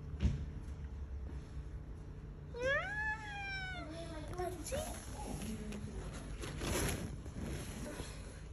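A cat meows in a long, rising then falling cry, followed by a few shorter meows, close by over a faint background hum.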